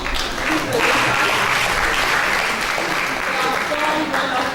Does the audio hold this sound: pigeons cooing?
no